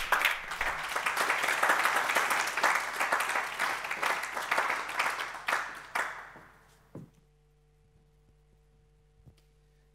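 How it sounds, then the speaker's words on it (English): Audience applause welcomes a speaker to the stage at a company tech talk: dense, steady clapping for about six seconds, then tapering off into near silence with a few scattered claps. "please give him a big applause and welcome Dr."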